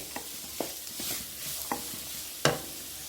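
Food sautéing in a pan, a faint sizzle broken by sharp, scattered clicks and scrapes from stirring, close and quiet, with no talking.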